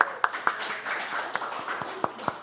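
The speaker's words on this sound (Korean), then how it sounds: "우리 박수." A church congregation claps in a loose, uneven patter of sharp claps over a low room hum. The applause is moderately loud, with no voice over it.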